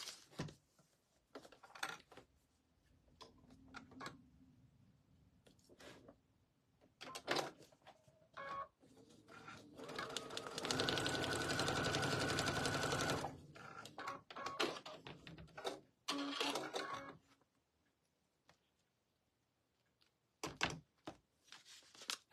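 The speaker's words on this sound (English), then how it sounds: "I'm going to unfold it, and I'm going to sew right on that line" Sewing machine stitching along a marked line on a quilt sampler, a steady mechanical whir running for a few seconds amid quieter handling noises and brief taps of fabric being moved.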